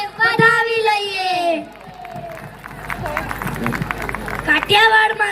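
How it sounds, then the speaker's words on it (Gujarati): A crowd at a school annual function in Vyara claps and cheers for performers, a noisy swell of clapping and shouts that follows a loud voice at the start and rises again near the end. "તો ફરીથી એકવાર જોરદાર તાળીઓ વગાડી આ કલાકારોને વધાવી લઈએ."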